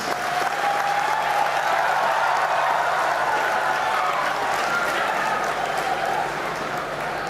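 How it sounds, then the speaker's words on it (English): A large audience at a university graduation ceremony gives sustained applause for the leadership and graduates, a broad, even roar of clapping that holds steady throughout and trails off slightly near the end. "Let us give a big applause to the leadership and all the graduates"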